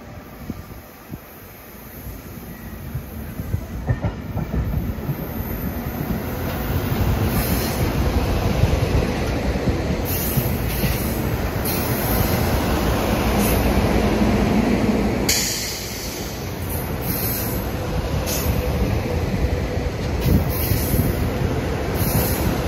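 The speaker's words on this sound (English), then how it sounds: "another Septa train that just arrived from Philadelphia is heading for the yard" A SEPTA commuter train from Philadelphia pulls into a station and rolls past toward the yard, a steady loud rumble of wheels on rail with a high squeal from the wheels running over it and a brief dip mid-way.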